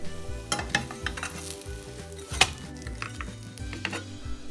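Okonomiyaki topped with bacon slices sizzles and crackles in a pan, a close, continuous fry broken by scattered sharp clicks and utensil taps against the pan, with no voices.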